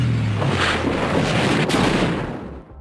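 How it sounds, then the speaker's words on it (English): An explosion effect in a 2D animation: one loud, rumbling blast that holds for a couple of seconds and then dies away at the end. "Can we just take a second to appreciate this explosion?"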